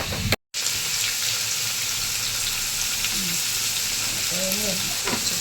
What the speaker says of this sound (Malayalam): ജീരകം എടുത്തിട്ടുണ്ടാവും, ഒന്ന് വറുത്തെടുക്കുകയാണ്.